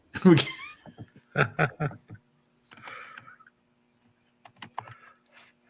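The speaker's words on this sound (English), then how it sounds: "people can watch me typing slowly" Someone types on a computer keyboard in bursts of sharp, nearby clicks separated by pauses, with a chuckle and some laughter mixed in.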